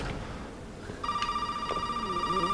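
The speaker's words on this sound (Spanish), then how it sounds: "suena el teléfono" A telephone in Resident Evil 7 starts ringing after a second of quiet game ambience, a steady shrill electronic ring that carries on to the end over low background rumble.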